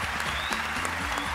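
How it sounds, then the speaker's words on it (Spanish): Audience applause in a television talent show studio, a continuous wash of clapping heard moderately, with a faint voice and some low tonal sound underneath. "¡Aplauso fuerte!"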